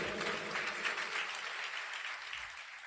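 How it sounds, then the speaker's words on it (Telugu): A church congregation claps for the Lord in a dense, steady wash of applause that holds evenly throughout, with no voices above it. "కోటో ప్రభుకి చప్పట్లు గట్టిగా"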